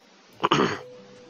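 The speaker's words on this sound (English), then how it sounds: "Cough, cough, cough!" One short, sharp cough or throat clear, close to the microphone in a quiet room, lasting under half a second before fading to near silence.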